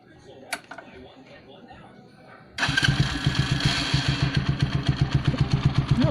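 A Gamma 200 motorcycle fitted with an Akrapovic carbon fiber muffler and DB killer starts up after a quiet stretch and settles into a loud, close, steadily pulsing run with rhythmic throttle blips.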